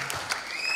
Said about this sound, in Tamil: பெரிய கைத்தட்டல்.